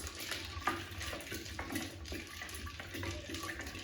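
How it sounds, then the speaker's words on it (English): Cold water pours and splashes into a 5-liter jug of diluted juice, a continuous close gurgle with a few clinks as it is stirred together. "At this point, I'm going to dilute this juice with our cold water, iced cold water."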